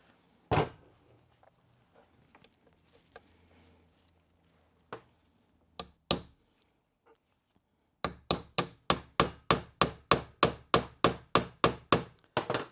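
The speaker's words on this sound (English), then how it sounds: "Those hammer blows should potentially help" A few scattered knocks, then a steady run of about fifteen sharp metallic hammer blows, evenly spaced and close by, struck to shock loose a diesel fuel filter on a Renault Scenic 3.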